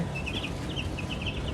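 Chickens clucking at close range, a flock of farm fowl giving short, repeated chirpy calls over a steady background hum, with no one speaking.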